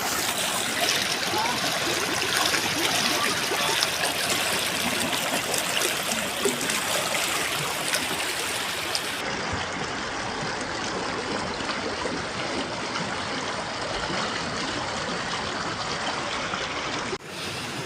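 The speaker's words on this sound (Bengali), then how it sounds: "এই যে পানির শব্দ তার" Water from the hills rushes steadily down a rocky mountain stream, a loud, continuous broadband flow close by that barely changes throughout.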